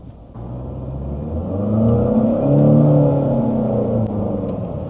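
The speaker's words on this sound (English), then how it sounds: "Look how responsive that transmission and the power is under the turbo CVT." An Omoda C5 1.5-litre turbo engine with CVT rises steadily in pitch and loudness as it accelerates, a smooth continuous drone with no gear-shift breaks, heard from inside the cabin.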